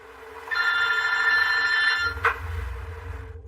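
A telephone rings in front of a man: one loud, steady electronic ring lasting about a second and a half, cut off by a click, over a low background hum with no talking.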